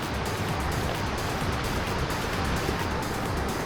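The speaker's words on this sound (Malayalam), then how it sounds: "അവിടെ നിന്ന് എവിടെ നിന്നോ വരുന്നൊരു കാട്ടരുവിയാണിത്." A forest stream runs steadily near a small dam, making a dense, unbroken rush of flowing water that stays loud and even throughout, with no voices over it.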